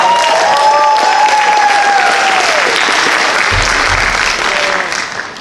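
A high school talent show audience breaks into loud, sustained applause, a dense wash of clapping that holds steady and then tapers off toward the end.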